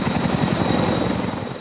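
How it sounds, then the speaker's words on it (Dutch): Helicopter flying low over Zeeland, a loud continuous rotor thrum with dense broadband noise and rapid beating, steady throughout with no voices. "Ik heb een verschrikkelijke hekel aan dat geluid van helikopters."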